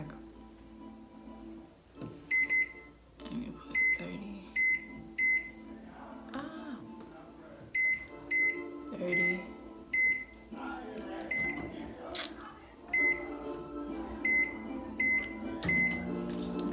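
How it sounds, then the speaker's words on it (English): A microwave oven runs through a steady low hum, with repeated short high beeps coming in bursts over the middle and end of the stretch, while a voice talks faintly in the background. "This microwave come in handy"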